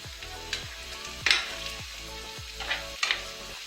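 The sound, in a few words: stirring shrimp, mushrooms, tomatoes and pineapple frying in pan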